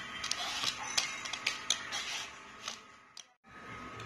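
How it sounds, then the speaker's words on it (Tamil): A bottle gourd is peeled in a kitchen, with faint, close scraping strokes and small clicks repeating at an uneven pace, quiet and with no speech. "தோலை சீவி எடுத்துக்கலாம்."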